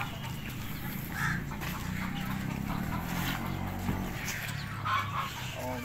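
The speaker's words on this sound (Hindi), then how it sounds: "ये देखें, ये एक मुर्गी है बैठी हुई" An Aseel hen sitting in a rural yard clucks softly in short bursts over steady background noise, fairly close, with no talking.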